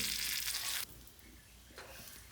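Mustard seeds and dried red chili sizzle hard in hot coconut oil for a moment, the loud crackling hiss then dropping to a softer steady fry.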